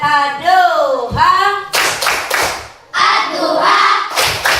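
Children perform a rhythmic tepuk sorak clapping cheer in a classroom, sharp unison claps in patterned bursts alternating with loud chanted voices, close and lively.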